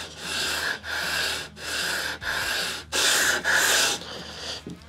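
Sandpaper rubs over guitar fretboard inlays with light pressure in six even back-and-forth strokes, a steady rasping hiss rising and pausing between each pass, close and alone.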